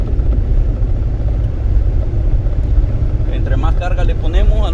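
A 2011 Ford F150 EcoBoost engine with a cylinder 2 misfire runs under load with a steady low rumble, rising slightly as it is revved, while someone talks over it.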